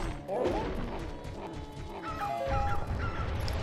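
Dog barking in the video game Zelda Majora's Mask, a short bark at the start over game music and effects, with a voice talking over it.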